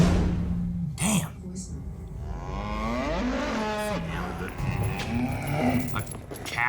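A cow moos in long, drawn-out lowing calls in the middle of the clip, heard over steady background sound with people talking around it.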